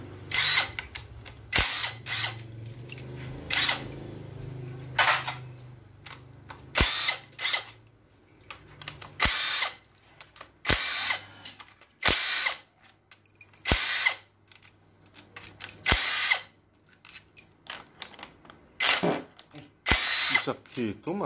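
A power tool, used as an impact, loosens 10 mm valve body bolts on a Suzuki Grand Vitara automatic transmission in short loud whirring bursts separated by pauses, with people talking in between.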